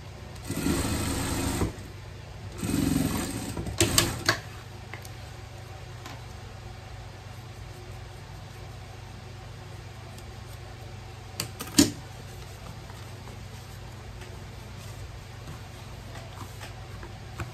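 Sewing machine stitching a seam on a vest, two short bursts of motor whirring early on, then quiet handling clicks and a faint hum.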